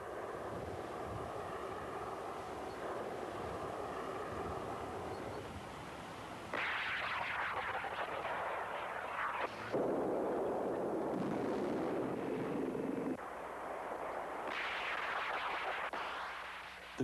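An anti-tank missile fires from its launcher, with a sudden loud rushing roar that swells and surges in several bursts and holds a broad blast of noise for many seconds.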